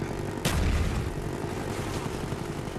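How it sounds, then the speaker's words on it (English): Grenades going off in Call of Duty: Black Ops on the Summit map during a Domination match: one loud, sharp blast near the half-second mark with a low rumbling tail, against steady game background noise. "you just hear the nades dropping, can't you?"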